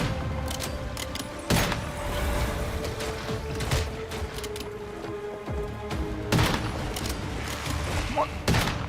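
Sniper rifle shots ring out in the survival shooter game Once Human: a few sharp, loud cracks spaced several seconds apart over a steady game background, with a voice talking in between.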